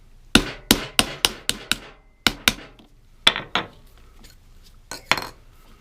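A hammer taps a stainless spring pin out of a Buck 110 knife, giving a quick series of sharp metallic clinks in uneven bursts, close and loud, with short pauses between groups of strikes.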